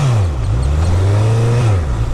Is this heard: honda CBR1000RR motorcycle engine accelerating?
yes